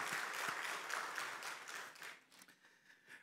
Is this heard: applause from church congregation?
yes